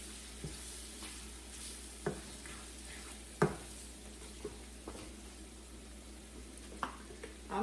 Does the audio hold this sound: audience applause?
no